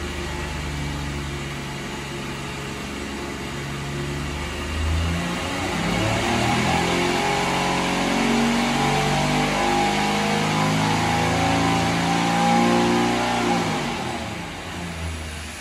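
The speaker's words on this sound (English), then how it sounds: "Here's the dyno grabbing a hold of the engine." A 1938 Packard 110 engine drones steadily under load on a dynamometer, then climbs in a long sustained rev as it is swept up toward high RPM, loud and close throughout.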